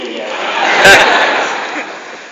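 A theatre crowd applauds and cheers at the close of a comedy show at Espace Magnum in Colfontaine. The dense, steady roar swells slightly mid-way and then eases off.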